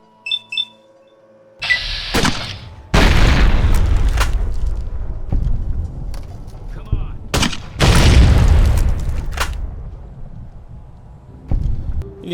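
Mercenary grenade rifle blasts in Fallout New Vegas in Primm, several loud, close, booming explosions in separate bursts with quieter gaps between them.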